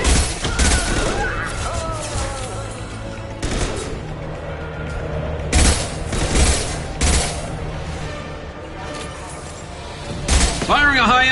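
Several loud gunshot bursts fired in the sci-fi shooter Mass Effect 2, sharp blasts recurring at irregular intervals through game ambience, with a voice speaking between the shots.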